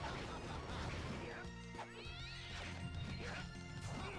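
Summoned cats in the video game Castlevania: Dawn of Sorrow meow and attack, with game music and short crashing hits layered over a dense, steady backdrop, while a voice speaks briefly.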